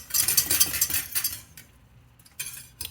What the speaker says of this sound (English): We're gonna get a whisk